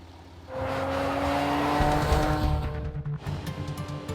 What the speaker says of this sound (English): It's like the big Jaguar roaring